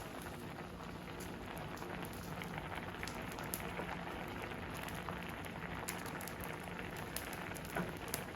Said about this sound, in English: We are boiling our sausages a little bit before we fry them.